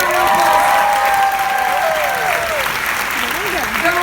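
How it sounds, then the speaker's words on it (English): An audience claps loudly and steadily for young performers on a cruise ship, with a few whistles and cheers rising over the dense applause. "Let's give them a round of"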